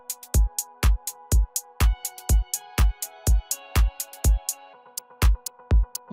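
Tech house drum kit played in Ableton Live: a steady four-on-the-floor kick with crisp hi-hats, claps and a low sustained tonal layer, looping loud and upfront with no voices.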